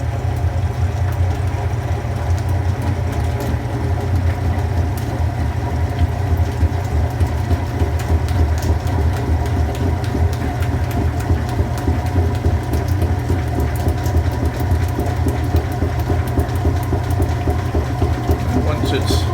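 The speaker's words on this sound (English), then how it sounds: "once it's been spinning at this sort of intermediate speed for a minute or so, then most of the honey is out of the frame" A honey extractor spins frames at intermediate speed on a rainy day, giving a continuous loud low hum and rumble with faint rattling on top.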